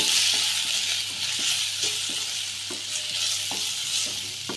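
Masala with salt sautéed in a pan, a loud continuous close sizzle with regular scraping strokes of a spatula stirring in a steady rhythm, no voices.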